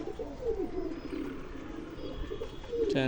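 Pigeons coo in a loft alongside a hen bird being shown off, with low rolling coos repeating steadily close by over a constant background of other birds.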